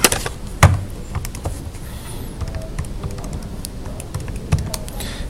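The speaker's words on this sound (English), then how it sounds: "you type that all into your calculator" Numbers punched into a handheld calculator: a scattered run of light, close plastic key taps over quiet room noise, with no one talking.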